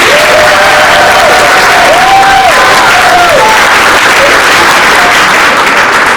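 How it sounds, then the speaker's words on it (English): Loud, dense applause from an audience at a high school senior awards night honoring school counselors, sustained evenly throughout with a faint voice or tone audible over the clapping. "Please join me in giving our counselors another round of applause."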